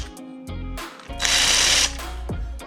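A power drill with a big bit lengthens a bolt slot on a BMW crank bolt capture tool: the motor whirs up in short bursts, then grinds loudly through metal for under a second before spinning down, close and alone.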